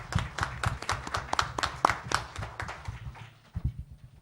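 Audience applause at a book presentation: a dense burst of hand clapping from a seated crowd, steady for several seconds, then thinning out toward the end.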